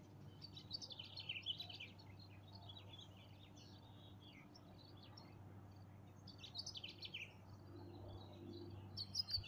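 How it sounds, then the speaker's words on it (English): Birds chirp and sing intermittently at a distance over a steady low hum, with a few brighter bursts of calls near the start and end. "I'll be quiet and listen to the birds."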